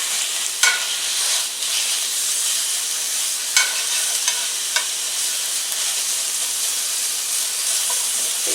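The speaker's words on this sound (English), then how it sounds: "Stir fry the pork on high heat until done," Ground pork and garlic stir-fry in hot oil over high heat, a steady loud sizzle with a few sharp clinks of the spatula against the pan.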